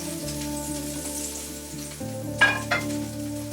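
Ingredients for an omelette sizzle in a hot frying pan with a steady, close hiss, broken by a couple of sharper spitting bursts toward the end, over a faint tonal hum in the background.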